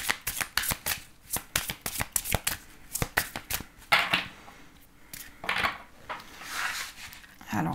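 Oracle cards being shuffled by hand, a quick series of crisp riffling snaps and flutters in uneven bursts, close and fairly quiet, with softer sliding sounds between shuffles.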